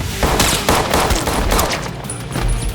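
Loud rapid bursts of film gunfire crack out in quick succession, a dense volley of seven pistol shots with a brief high ringing tone near the end.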